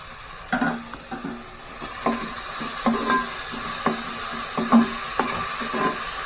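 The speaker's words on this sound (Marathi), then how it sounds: "कांदा थोडं चांगला परतून घ्यायला लागेल तेल जास्तच तापलंय व्यवस्थित असं ब्राऊन झाला पाहिजे कांदा" Onion browning in overheated oil, sizzling steadily while a spoon stirs and scrapes the pan in irregular clinks and scrapes throughout, close by, with no talk.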